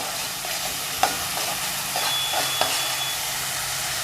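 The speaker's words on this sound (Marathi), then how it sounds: "हे बघा ह्या मी एक कांदा बारीक करून घेतलं आहे थोडा कढीपत्ता घेतला आहे हे आपण आता ह्या तेलामध्ये घालून घेऊया" Finely chopped onion and curry leaves fry in oil for a Malvani mutton curry, with a dense, even sizzle and a couple of sharp clicks from a stirring spoon.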